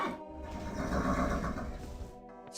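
Horse neighing in The 11th Hour video game: a long, loud whinny sustained for about two seconds, then tapering off near the end, with no voices over it.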